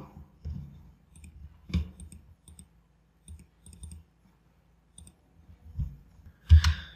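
Scattered mouse clicks while working in a Google Colab notebook, a few soft single and double clicks spread over several seconds, close and fairly quiet with silence between them.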